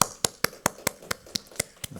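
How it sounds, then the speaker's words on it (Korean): A church congregation at a special dawn prayer service claps together in a steady, even rhythm, with about ten sharp, moderately close claps over two seconds. "감사와 영광의 박수 같이 올려드리겠습니다"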